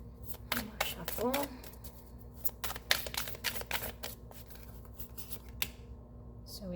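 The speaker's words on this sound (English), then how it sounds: "One more shuffle." Tarot cards being shuffled by hand, a run of crisp riffling clicks and flutters at close range, with brief gaps between bursts and some faint background tone.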